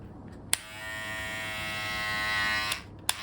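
A Douyear professional beard trimmer switches on with a click and hums in a steady, close electric buzz for a couple of seconds before clicking off, with another click just after.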